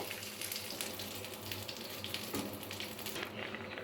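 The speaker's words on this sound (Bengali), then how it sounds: "জিরেগুলো কিন্তু ভাজা হয়ে গেছে এবার আমি মাছের ঝোলটা কড়ার ভিতরে দিয়ে দেব" Fish curry, a thin parshe fish jhol with potato and beans, is poured into a kadai of fried cumin and sizzles steadily with a loud, continuous hiss, with no talking.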